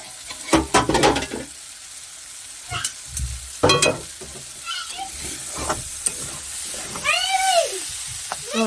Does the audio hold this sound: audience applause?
no